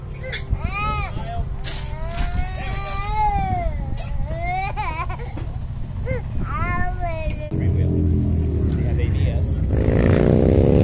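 Bagger motorcycles racing on a track, a steady engine roar in the background that grows louder toward the end, while a baby cries loudly in the foreground and adults talk.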